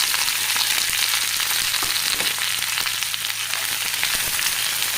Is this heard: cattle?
no